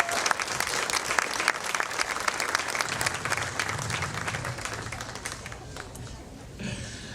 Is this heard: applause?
yes